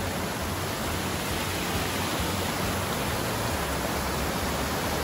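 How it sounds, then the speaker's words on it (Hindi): A waterfall in the Kotabagh hills pours down from a main fall higher up, producing a dense, unbroken hiss of rushing water that stays loud and even throughout, with no voices. "ये जो वाटरफॉल है ये उसी ऊपर से मेन वाले से आ रहा है"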